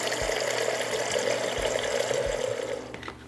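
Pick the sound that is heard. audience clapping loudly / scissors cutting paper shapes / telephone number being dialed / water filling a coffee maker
water filling a coffee maker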